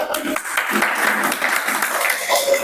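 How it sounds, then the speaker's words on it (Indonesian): Applause from a small audience in a classroom-style session, light scattered clapping mixed with some background voices, fairly close and moderately loud over a few seconds. "Oke, tepuk tangan dong."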